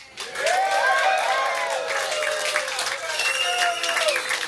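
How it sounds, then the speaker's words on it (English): Family audience at a clean comedy and magic show cheers and claps while a card trick unfolds, a moderate crowd noise with voices rising in pitch over scattered applause, fairly close and continuous. "Keep cheering them."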